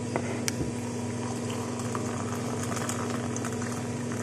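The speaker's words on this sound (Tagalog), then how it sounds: "Then, lagyan natin siya ng mainit na tubig." Hot water runs into a container for mixing henna powder, a continuous bubbling, liquid pour with a steady hum beneath it and a couple of small clinks near the start, close and fairly loud.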